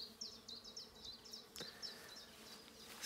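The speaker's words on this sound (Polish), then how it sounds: "Z tyłu pszczółki." Bees buzz outdoors on a spring day in a low, steady drone, joined by a run of bright, repeated chirps and a sharp click near the middle.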